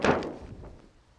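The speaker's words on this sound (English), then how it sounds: "clamp the boom shut, like so" A NeilPryde windsurf boom clamp snapping shut on the mast, a single sharp close thunk that quickly decays into quiet.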